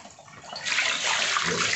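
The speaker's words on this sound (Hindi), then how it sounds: "ये पानी डाल दें इसके अंदर।" Water is poured into flour to make batter for a dhaba-style fish fry, giving a steady splashing rush that swells louder partway through and keeps going to the end.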